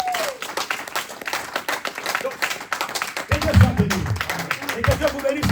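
Church congregation applauding for the Lord at a Paris worship service, lively rhythmic clapping mixed with cheers and voices, growing fuller and louder in the second half.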